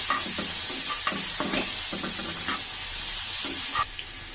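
Chopped tomato with green chilli stirred through pasta in a hot pan, a steady sizzling hiss with soft intermittent scraping strokes, close and continuous.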